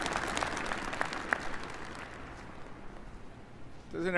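Applause from the audience at a submarine christening ceremony for the Arkansas (SSN 800): broadband clapping fills the first half, then fades into a quieter crowd bed, with a voice starting at the end.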